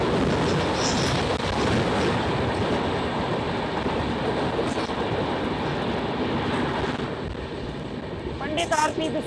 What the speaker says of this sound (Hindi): पंडित आरपी बिश्नोई जंक्शन स्किप करने के बाद ये ट्रेन पासिंग है।